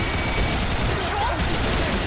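Golden Turbine machine gun (MK5) in a video game fires a dense, continuous burst of rapid shots, loud and unbroken throughout.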